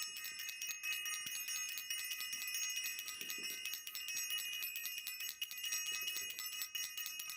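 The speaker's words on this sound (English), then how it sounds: "I want to ring the bell." Bright, steady bell ringing that sustains through the whole stretch with dense metallic overtones, fairly even and close, while faint low sounds sit underneath and no one speaks.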